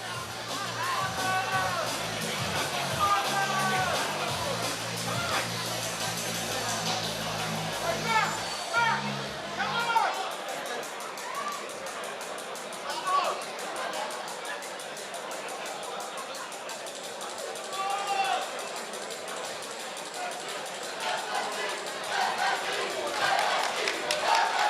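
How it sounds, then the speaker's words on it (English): Fight crowd at a Muay Boran bout yelling and chanting in support of a fighter, a dense, sustained roar of shouts and cheers with rising bursts throughout, heavier and busier in the opening seconds. "There you can hear in the crowd the support for Artur Saladiak screaming FSC"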